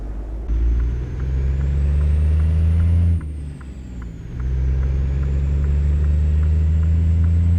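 A loud DD60 diesel truck engine in American Truck Simulator idles with a deep steady rumble, dips briefly as a hiss cuts in, then resumes its heavy drone.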